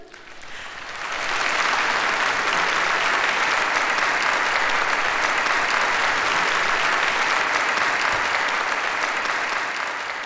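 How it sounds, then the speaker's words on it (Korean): Congratulatory applause for a female coach named a top-ten best coach of North Korea at a meeting with athletes, a large hall crowd clapping in a dense, even roar that swells in after a second and holds steady, loud and sustained. "다시 한번 우리 축하의 박수를 보내줍시다"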